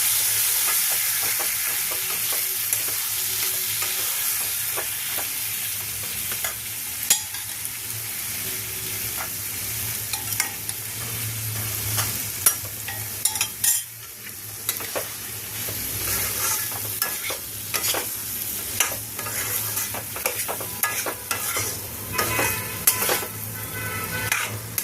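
Chickpeas tossed into frying masala for dhaba-style chana masala, a dense hissing sizzle that breaks into a run of rhythmic spatula scrapes and clanks against the pan, loud and close, no speech.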